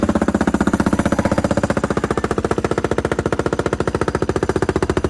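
A KTM 390 motorcycle engine with a full open exhaust pipe runs with a rapid, hard-edged staccato bark. The exhaust pulses are evenly spaced and loud at close range, with no talking over it.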